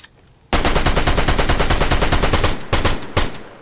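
Sustained automatic gunfire from a Fortnite match, a loud continuous burst of rapid shots lasting about two seconds, followed by two shorter bursts, with no talking over it.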